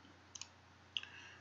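Two pairs of crisp computer mouse clicks, each a quick double tick, close and quiet over faint steady background hum.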